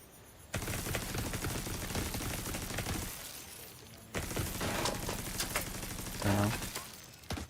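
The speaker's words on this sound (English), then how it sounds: "They just keep shooting me in the head until..." Sustained rapid gunfire in the shooter The Division 2, dense automatic bursts that pause briefly and then resume, with sharp impacts near the end.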